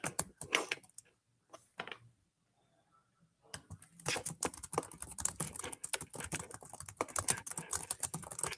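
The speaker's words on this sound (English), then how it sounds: "I'm going to type this in here again, the right one." Rapid, uneven computer keyboard typing, close and fairly loud, with a short burst of keys, a brief pause, then a longer steady run of keystrokes.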